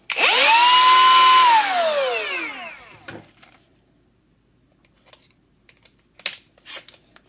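A faulty Milwaukee M18 Fuel cordless die grinder with a failing speed control whines up and spins down in a loud sweeping burst, followed by quieter clicks and handling knocks.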